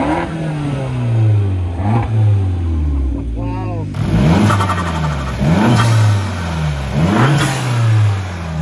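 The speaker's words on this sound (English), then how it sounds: "The only jealousy I have is the way your car sounds because there is nothing else like that on the market" A used car's engine revs repeatedly, loud and close, each throttle blip climbing then dropping back to a throaty idle in a steady rhythm of rising and falling pulls over several seconds.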